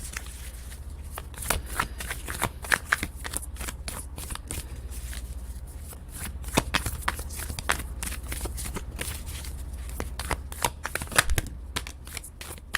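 Tarot cards are shuffled by hand, with quick papery riffles and soft slaps coming in uneven bursts, close and fairly quiet, with no talking.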